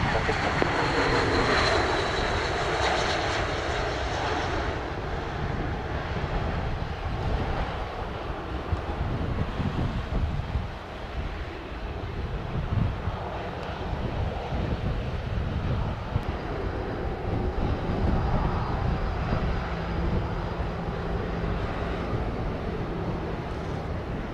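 Airplanes at Sangster International Airport in Montego Bay, Jamaica, make a steady, broad engine roar that holds throughout, mixed with wind buffeting the microphone and no voices.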